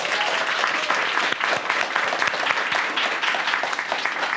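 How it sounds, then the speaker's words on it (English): Steady applause from a convention panel audience at a Blood on the Clocktower fan event, dense and sustained throughout at an even level with no speech over it. "So, massive round of applause for our panelists, Holly and Ken."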